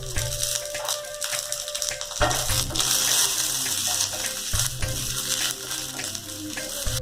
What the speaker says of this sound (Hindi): मसालों को ज़्यादा नहीं पकाना है, बस हल्का सा रोस्ट कर लें।